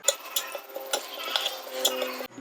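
A spoon stirs dry ground spices, including tatri powder, in a bowl while making nihari masala. Light scattered clinks and scrapes sound close and fairly quiet over about two seconds, with no talking.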